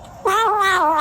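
A house cat gives a single drawn-out, wavering meow, close and fairly loud against a quiet room, with no talking.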